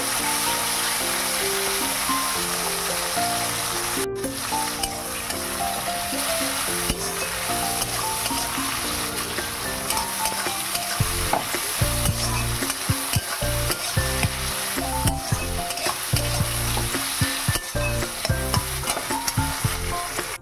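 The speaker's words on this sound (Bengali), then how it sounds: "পেঁয়াজ, টমেটো, ক্যাপসিকাম, কাঁচা লঙ্কা সব দিয়ে দেবো, দিয়ে এগুলো ভালো করে ভেজে নেব।" Onion paste, tomato, capsicum and green chili fry together in a pan for a chicken dish, giving a steady, dense sizzle with stirring under continuous background music and no talking.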